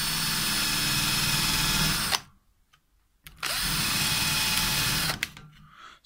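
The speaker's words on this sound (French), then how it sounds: "on va les percer au bord sans être trop au bord" A power drill bores holes near the edges of wooden boards for a bird feeder, whining loudly in two long bursts separated by a quiet pause, each ending as the bit breaks through.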